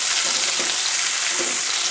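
Ivy gourd pieces fry in hot oil in a pan for a kovakka curry, filling the space with a loud, continuous close-up sizzle and a couple of soft stirring bumps, with no voices.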